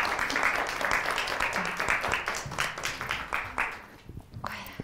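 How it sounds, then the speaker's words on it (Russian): Applause from an audience greeting a guest onto a stage at a talk, steady dense clapping that runs for several seconds and thins out toward the end, heard fairly close with murmuring in the room. "Поэтому под ваши аплодисменты я приглашаю на эту сцену Ольгу Бородневу."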